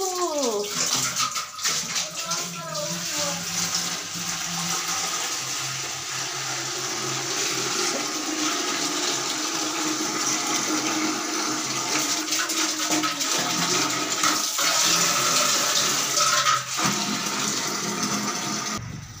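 Water runs steadily into a container at a home, a continuous rushing and splashing flow that stays fairly loud and even throughout, with no talking over it.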